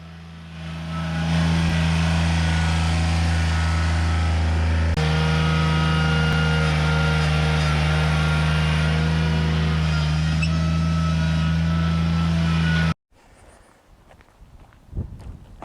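Engine of an older John Deere 955 compact tractor spreading stone, a loud steady diesel hum with rattling from the work that runs for most of the stretch and then cuts off abruptly, leaving faint background sounds.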